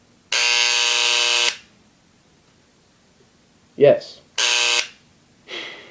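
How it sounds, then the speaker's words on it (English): A Dremel rotary tool gives an abnormal, harsh electric buzz when switched on: two steady buzzing bursts of about a second each, with a brief spoken word between them. "That's not what a Dremel should sound like."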